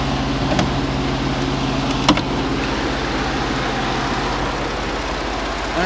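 A Ford F150 with a turbocharged 3.5-liter EcoBoost V6 runs at a steady idle, a close, even engine hum with a couple of faint clicks.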